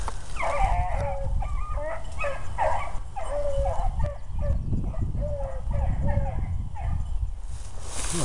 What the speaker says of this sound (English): Dogs are right there.